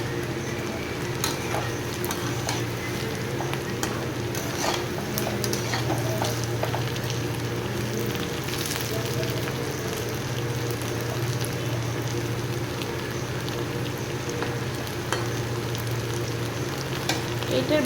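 Food sizzles steadily in a hot pan in a home kitchen, with occasional scraping and stirring clinks of a utensil against the pan over a continuous frying hiss.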